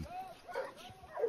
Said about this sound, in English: Howling.